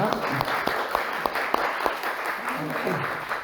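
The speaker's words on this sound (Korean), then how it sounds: "하나님께 영광의 박수 올려드립니다." Korean church congregation during Sunday worship applauds, distinct sharp claps in a loose rhythm over a murmuring background, with a voice speaking partway through.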